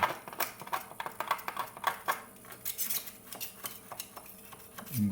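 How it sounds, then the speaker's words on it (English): A putty knife scrapes excess grout from the seams of a subway tile backsplash, making quick, repeated scratchy ticks and clicks that are faint and close, with no talk. "I'm going to go ahead and scrape it out with my putty knife"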